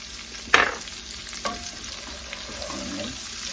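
Chopped leeks tip into a pot of hot bacon grease with a sharp sizzling splash, followed by soft stirring scrapes and a low continuous fry.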